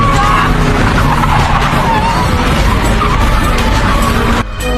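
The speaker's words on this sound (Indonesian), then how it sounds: "pria itu menyusul dari belakang dan dengan gegabah menginjak rem" A car's tires screech in a long, loud skid under heavy braking, a harsh continuous squeal that cuts off abruptly near the end.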